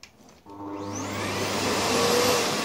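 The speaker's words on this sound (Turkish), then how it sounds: "bir evi süpüreyim geleyim" An Electrolux bagless vacuum cleaner switches on after a brief click and winds up into a loud, steady, close whirring roar with a rising whine as the motor reaches full speed.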